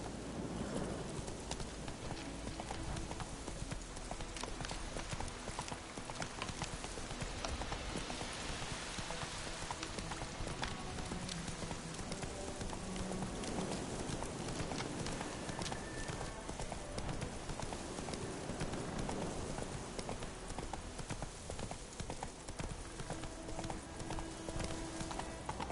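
Geralt's horse Roach trots through The Witcher game world, hooves clip-clopping steadily and continuously over a dense bed of rain and ambient game sound, with no speech.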